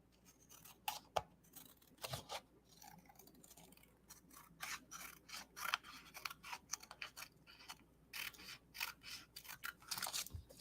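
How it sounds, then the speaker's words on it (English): Repeated crisp snips and crunches of scissors cutting paper, close and fairly quiet, in an irregular rhythm with short pauses between cuts. "Scissors."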